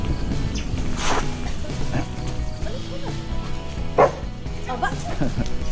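Dogs bark near RTL chicken cages on a farm, with one clear bark standing out over steady mechanical clatter and background noise, while people talk.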